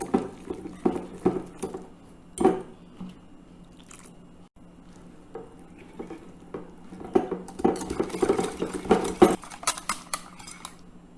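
A utensil clinks and scrapes against a bowl while a thick flour-and-water batter for Malabar spinach fritters is stirred, with wet squelching and irregular taps growing busier.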